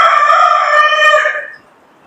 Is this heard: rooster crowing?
yes